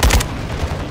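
Rapid bursts of gunfire in the Call of Duty Warzone DMZ game, a loud close volley of shots crackling in the first moment and then trailing into a rumbling background.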